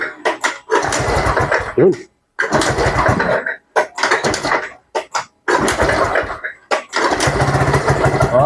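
A fuel-injected Yamaha Gravis scooter engine is kick-started and catches, sputtering and revving in repeated loud bursts broken by short pauses, with people talking between the bursts.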